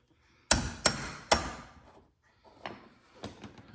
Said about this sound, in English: Bigger punch, bigger hammer.